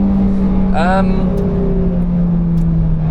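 A Toyota Celica T-Sport with poor brakes hums along the Nürburgring, its engine holding a steady, loud drone that swells briefly as the revs rise, with road and wind noise continuous underneath.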